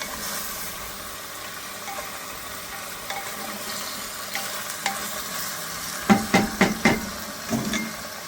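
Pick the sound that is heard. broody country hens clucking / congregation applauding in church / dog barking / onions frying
onions frying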